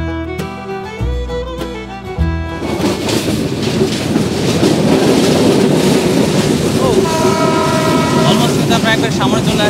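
The Rangpur Express runs over the Chalan Beel wetland, opening with a long tonal horn blast, then a loud sustained rumble and rattle of the carriages, with another horn note near the end.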